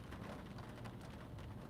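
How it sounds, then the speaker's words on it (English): Steady rain falls on a dreary day in Queens, New York, a dense, even hiss of drops filling the whole stretch with no pauses and no voices. "I don't know how long this rain is gonna last for."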